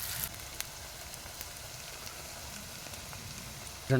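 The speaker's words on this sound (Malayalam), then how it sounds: "ചെറിയ ഉള്ളി നിറം മാറുന്നവരെ വതക്കണം." Shallots sauté in a pan for a homestyle Palakkad fish curry, giving off a faint, steady sizzle with no talk over it.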